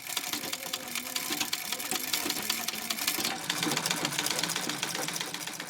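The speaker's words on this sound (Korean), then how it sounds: "엄마가 재봉틀을 돌리고 있는 사이" An old sewing machine runs at a home in Cuba with a continuous, fast, rattling whir that holds steady from start to finish, close and moderately loud.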